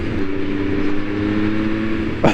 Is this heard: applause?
no